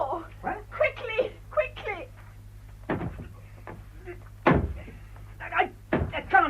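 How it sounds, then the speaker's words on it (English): A door is forced in a live radio-theatre staging of a W. Somerset Maugham play: heavy, separate thuds and bangs land between urgent shouting voices. "Break down the door."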